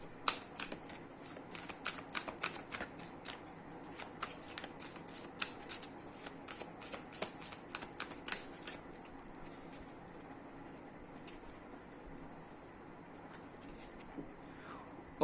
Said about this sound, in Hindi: पहले तो मैं शफल कर लेता हूँ।